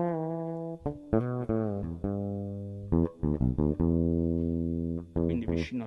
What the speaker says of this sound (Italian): avrò questo suono più nasale, suonando più vicino appunto al ponte